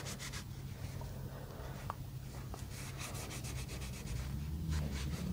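Oil being worked by hand into the handle of a Nicholas Nichols santoku kitchen knife: a soft, steady close-up rubbing and scuffing, quiet and continuous, with a few faint clicks.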